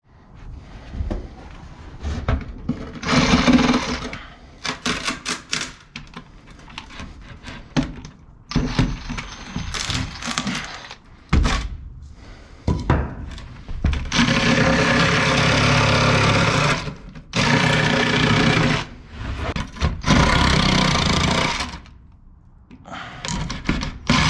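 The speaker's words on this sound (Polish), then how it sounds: "Nacinam sobie piłą tarczową" A circular saw whines in repeated bursts of cutting attic flooring, loud and close, with short pauses and clunks between passes.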